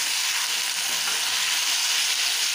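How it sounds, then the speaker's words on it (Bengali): Pieces of bhangan fish seasoned with turmeric and salt fry in a pan, making a loud, steady, close-up sizzle that continues without a break and with no talking. "এখন এটাকে একটু ভালো করে ভেজে নেব।"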